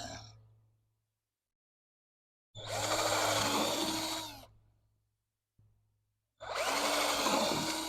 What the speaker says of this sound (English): I drill it right above the dirt.